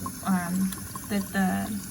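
Tap water runs into a sink while food is rinsed for menudo, a steady splashing that swells in bursts as the food passes under the stream, with a person talking over it.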